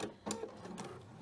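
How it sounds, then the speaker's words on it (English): A sewing machine top stitching a purse pocket, its needle running in a short quick mechanical burst, close and faint. "I am going to back stitch the pocket also a little bit."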